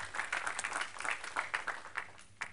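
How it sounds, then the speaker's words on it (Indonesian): A church congregation applauding during a Christmas service, a brief spell of dense, fairly quiet clapping in uneven pulses that trails off near the end. "Tepuk tangan yang dahsyat."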